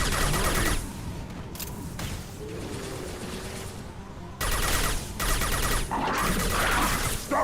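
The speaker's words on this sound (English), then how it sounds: "Stop firing at me, idiot!" Automatic weapon fire in the sci-fi shooter Mass Effect 2, loud close bursts that stop for a few seconds and then resume, mixed with combat noise.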